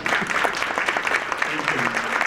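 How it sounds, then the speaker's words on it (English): An audience at an African American Read-In event gives a dense, steady round of applause for Ms. Brianna Johnson, many hands clapping together at an even level with faint voices mixed in. "Can we give another round of applause to Ms. Brianna Johnson?"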